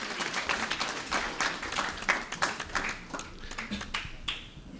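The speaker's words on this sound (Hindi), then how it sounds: "जोरदार तालियां इनके पेरेंट्स के लिए" Applause for parents at a Mother's Day youth event, an uneven patter of hands clapping and tapping with sharp peaks, moderately loud and fading slightly toward the end.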